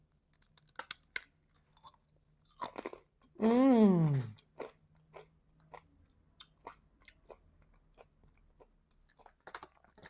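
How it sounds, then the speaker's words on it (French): Crunchy strawberry-flavoured candies from 7-Eleven being bitten and chewed close to the mic, with sharp crackling crunches in short bursts and a brief hum between them. "Ben là, ils sont croustillants."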